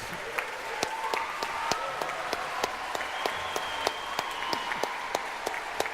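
An audience at a New York Philharmonic concert applauds young composers steadily, with many hands clapping at once and a few sharper claps standing out, sustained throughout without pause.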